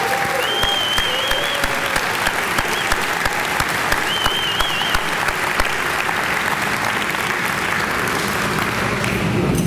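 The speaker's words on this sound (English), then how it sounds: "give her an extra special round of applause for her service" A dinner crowd gives loud, sustained applause honoring a woman for her service. The thick, continuous clapping carries a few brief high tonal calls near the start.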